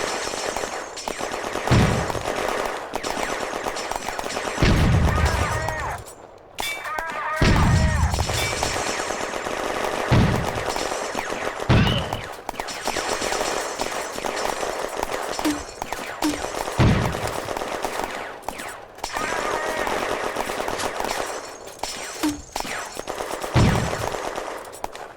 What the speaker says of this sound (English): The French put down a huge weight of fire.